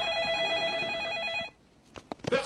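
A telephone bell rings continuously and loudly for about a second and a half, then stops, followed by faint scattered knocks and movement.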